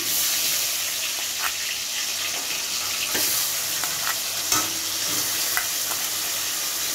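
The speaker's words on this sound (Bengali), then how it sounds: "আলুটা ভাজা ভাজা হবে।" Potatoes fry in a pan of hot oil seasoned with asafoetida, giving a steady, close sizzle with occasional small crackles and pops throughout.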